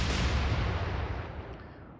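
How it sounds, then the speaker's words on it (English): Naval guns fire in the Atlantic Fleet game, a single heavy, booming blast that rolls out and fades over about two seconds. "guns blaze in the smoke"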